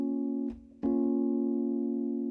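A chord played on a MIDI keyboard in FL Studio for an Amapiano beat sounds as a soft synth tone that cuts off briefly and is restruck, then sustains at a modest level.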